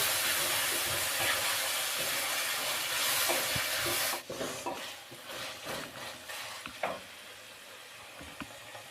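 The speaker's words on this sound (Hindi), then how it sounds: "अब हम इसे अच्छे तरीके से भूनेंगे।" Goat intestine roasting with spices in a pan gives a steady loud sizzle that suddenly drops, followed by softer sizzling broken by close spoon scrapes and stirring knocks.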